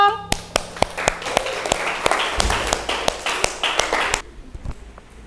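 A classroom of students claps for a group presentation, a sharp tap opening into a busy spatter of close, loud individual claps with occasional strong accents, stopping abruptly and leaving a few scattered taps and faint voices.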